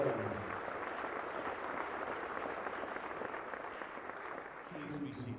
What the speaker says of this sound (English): nice round of applause to the Honolulu Fire Department Honor Guard